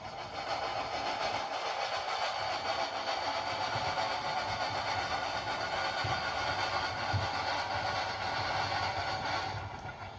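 A model train pulls a caboose along a layout track toward the points, a steady continuous rolling hum with faint clicking held at an even level throughout.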